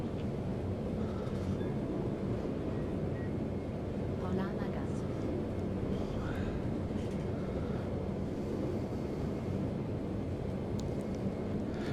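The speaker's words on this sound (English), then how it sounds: "that's just a tram heading in the other direction" In the TramSim Vienna game, a tram passes in the opposite direction, a continuous rail rumble with rattling and faint squeals that stays steady throughout, while someone talks over it.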